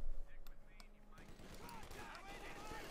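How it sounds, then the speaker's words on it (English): A .50 caliber machine gun firing on Grenadiers in the strategy game Company of Heroes 2, a faint, rapid stream of shots in the middle distance mixed with other battle noise and occasional brief voices. "Up north, got the 50 caliber there firing away at the Grenadiers."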